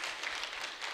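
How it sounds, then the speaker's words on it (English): Audience applause at a medical school finalists' dinner, a steady dense wash of clapping filling the whole second at moderate loudness, with no voices heard. "Let's get a round of applause for Kisumu Specialist Hospital."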